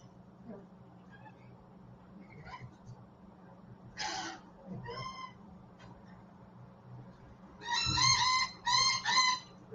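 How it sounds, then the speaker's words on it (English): Chickens being fed let out scattered clucks, then a burst of loud, bright, repeated crowing-like calls near the end, close by over a low steady hum, with a few soft voices. "birds are being fed"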